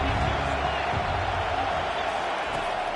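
Steady stadium crowd roar from an NCAA 25 college football video game, Notre Dame versus Clemson, fills the whole clip as a constant wash of noise with no talk over it.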